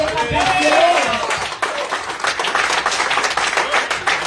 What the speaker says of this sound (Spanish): fuerte aplauso a Dios.